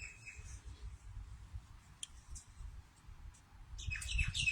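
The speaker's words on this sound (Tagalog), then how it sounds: "Yung ibon." Faint bird chirps come and go over a low outdoor rumble in Camden, Australia, with a brighter burst of chirping near the end.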